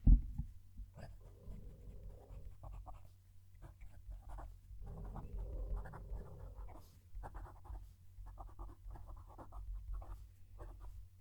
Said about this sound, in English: So let's move the mic and write the sentence.